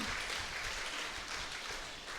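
Applause from a church congregation at a Sunday service, a dense, even wash of clapping heard faintly and continuously throughout, with no voices over it.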